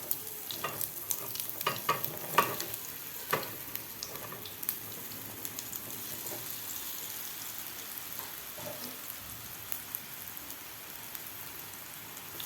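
Mung dal vadis frying in a pan are stirred with a continuous soft sizzle, broken by irregular scraping and clicking strokes of the spatula that ease off toward the end.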